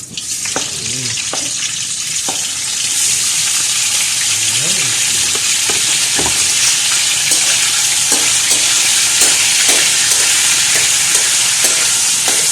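Boiled pork chunks fry in a hot wok with a loud, steady sizzle that swells after a few seconds, and occasional spatula clinks break in at irregular moments.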